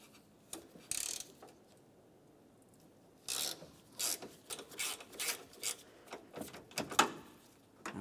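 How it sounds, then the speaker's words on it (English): A 5mm Allen head socket turning bumper bracket support screws counterclockwise on a 2006-2011 Honda Civic: quiet, intermittent ratcheting clicks and scraping metal rasps, close by, in short irregular bursts with pauses between them. "you'll find that you need to use a 5mm Allen head socket. We'll put this right in place and turn these counterclockwise to remove them."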